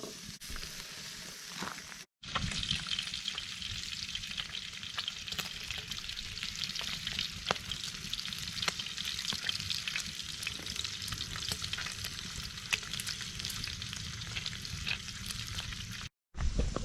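Bacon frying in a skillet over a campfire outdoors: a continuous soft crackling sizzle that runs steadily with tiny pops, breaking off briefly near the start and again at the end.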